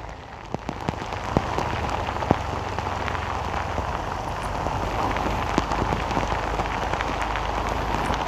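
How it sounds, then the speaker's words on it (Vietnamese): Torrential rain pours on a Saigon street in a steady, loud, close roar, with frequent crisp splats of drops hitting nearby surfaces and no one speaking. "Mưa to quá."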